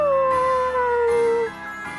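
A dog howling in the video game Bravely Default 2, one long loud howl sliding downward in pitch and then trailing off, close and alone.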